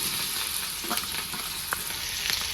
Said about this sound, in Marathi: तर मी कांदा टाकून घेते